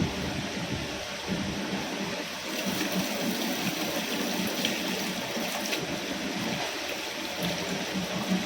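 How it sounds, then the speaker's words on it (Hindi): Water is poured over a teddy bear while it is being washed, making a steady splashing, trickling wash of sound at moderate level with no talk. "फिर इसके ऊपर पानी दे देंगे।"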